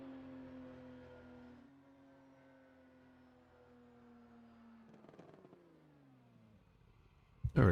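Race car engine on a track, a steady mid-pitched drone that slowly drops in pitch as the car slows, then a short rising rev near the end and a sudden loud burst of noise, with no talking.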